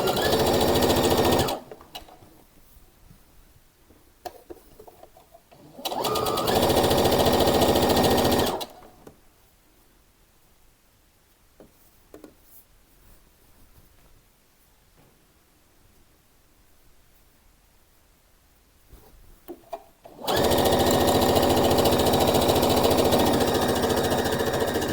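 Sewing machine stitching along the edge of fabric for a summer dress, loud steady whirring bursts of running motor separated by quiet pauses with small handling clicks, three runs in all, the longest at the end.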